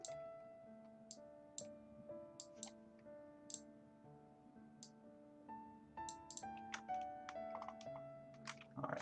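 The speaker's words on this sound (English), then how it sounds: "I'll actually type out a question and then we can answer it as well." Light, quiet typing on a computer keyboard, scattered clicks and short runs of keystrokes over a soft sustained musical tone, with no one speaking.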